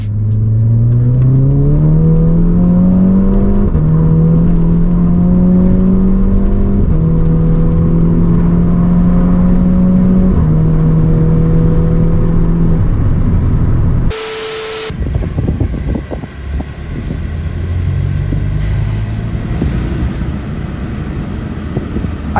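Skoda Laura with a swapped 2.0L TSI engine and DQ250 six-speed DSG accelerating hard, the loud engine note rising through several gears with brief dips at each shift, then a sharp cut before a rougher, lower continuation.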